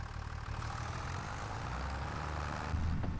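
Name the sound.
tractor engine starting and idling in a farming video game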